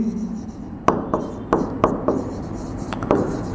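Chalk or marker strokes on a board during a coordinate geometry lesson, several short taps and scratches in an uneven rhythm, close and fairly crisp over a room hum.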